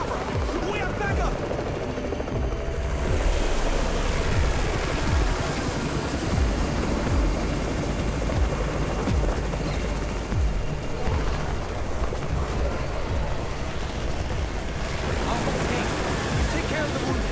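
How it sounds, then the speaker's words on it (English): A steady helicopter rotor drone fills the scene in the video game Undawn, mixed with rushing noise and scattered gunfire, loud and continuous throughout. "It's the Raven's chopper!"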